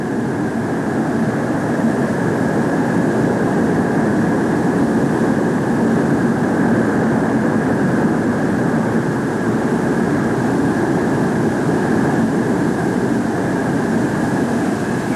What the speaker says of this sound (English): As the F-102 taxis back to the waiting crew